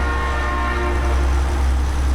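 A passing train in American Truck Simulator gives off a sustained horn-like tone over a heavy, continuous rumble of rail cars and truck engine, fairly loud and steady.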